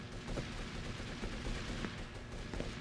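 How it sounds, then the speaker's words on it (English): Enemy gunfire in the GTA Vice City video game, a steady dense run of shots crackling at mid distance over a constant game backdrop, with no voices over it. "They keep shooting."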